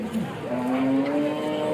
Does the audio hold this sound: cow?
yes